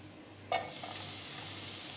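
Garlic hits hot oil with a sudden sharp sizzle that settles into a steady, close frying hiss as it is stirred, with no voices.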